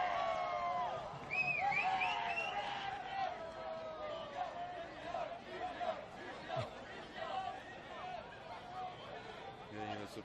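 A football crowd at Christie Park cheering and murmuring during an Australia Cup match between Rockdale Ilinden and Phoenix, a distant swelling roar with whistles and shouts under a commentator's voice.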